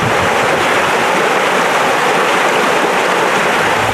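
The Nietupa, a regulated, human-altered river, flowing in a steady, loud, unbroken rush of water with no voices.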